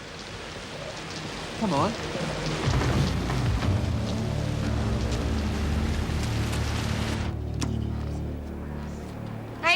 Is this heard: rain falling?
yes